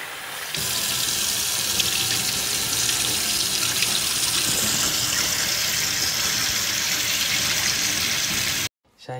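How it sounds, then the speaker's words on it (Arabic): Laundry being rinsed by hand under a running tap, water gushing steadily into a filled sink for several seconds, close and loud, cutting off abruptly near the end. "هنضل عم اغسلهم هيك لحتى يعني حتى المي تصير صافية صافية."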